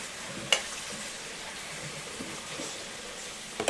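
Meatballs brown in a pan for homemade Sunday gravy, giving a soft, steady sizzle close by, with a sharp clink near the start and a couple of knocks at the end, and no talking.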